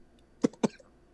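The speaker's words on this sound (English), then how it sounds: "Don't talk and burp at the same time" Two short, close burps about a fifth of a second apart follow a drink of Smithwick's beer, each a quick throaty burst against quiet background.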